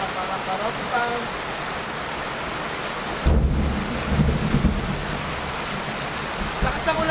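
Heavy rain pours at 2 am in Mandaluyong as a steady, dense roar, joined midway by a louder, rumbling burst like nearby thunder before the downpour settles back.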